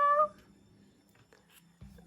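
A single short, clear cat meow sounds at the very start, close and tonal, followed by near silence and faint room noise.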